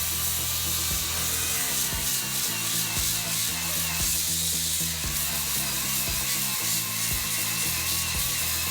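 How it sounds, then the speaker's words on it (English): A power tool grinds and saws steadily through a vehicle's metal frame, loud and continuous, with a rhythmic rasping pulse repeating about once a second. "We're gonna cut this frame off."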